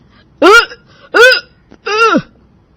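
Three loud, sour burps used as a cartoon sound effect in a funny Hindi bedtime story, evenly spaced and heard alone against near silence.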